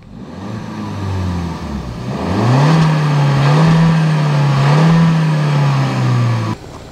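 A Suzuki Swift Sport's engine idles, then revs up and holds at a high, loud, slightly wavering pitch for several seconds before cutting off abruptly.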